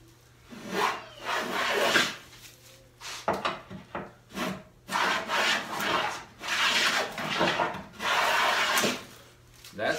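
A hand plane takes shavings from a wooden board during hand-tool woodworking for a sideboard bottom panel, with repeated rasping strokes in an irregular rhythm, each a swelling scrape followed by short pauses, close and moderately loud.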